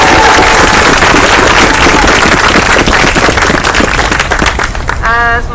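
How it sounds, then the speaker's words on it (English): Loud, dense crowd applause fills an evening vigil against anti-Asian hate, a steady wash of many clapping hands close by that holds throughout, with brief voices mixed in near the end. "Can we give them a round of applause?"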